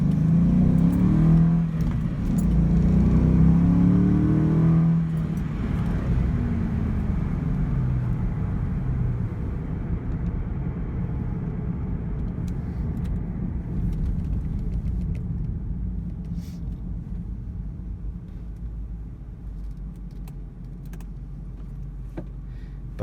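A 2001 Ford Mustang Bullitt engine accelerates hard, a loud, close rumbling roar that climbs in pitch early on, then settles into a sustained, heavy drone with no voices.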